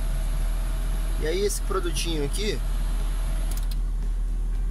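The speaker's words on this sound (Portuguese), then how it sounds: "ligar o carro, ligar o ventilador na máxima velocidade, ligar o ar-condicionado." A car idling with its ventilation fan on maximum and the air conditioning running gives a steady whooshing hum inside the cabin, and a voice speaks briefly over it.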